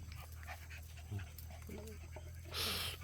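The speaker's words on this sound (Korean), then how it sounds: "우리 천돌이 강아지하고 흑향이 강아지가 노는 걸 찍어봤습니다." Puppies playing together, with close quick panting, small yips and snuffling, and a brief burst of rustling near the end, over a low steady hum.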